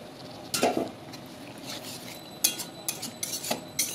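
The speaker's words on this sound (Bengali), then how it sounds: "এবার একটুখানি হালকা জল দিয়ে ঢেকে দিই" Kitchen clatter as water goes into a pot of spiced pointed-gourd curry and it is covered with a plate, a few distinct metallic clinks and knocks over a faint background hiss.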